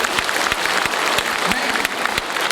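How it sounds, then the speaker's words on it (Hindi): An audience at a Patna success-day event in 2016 claps loudly, dense sustained applause with sharp individual claps standing out close by. "एक जोरदार ताली के साथ उनके लिए ताली बजाएं"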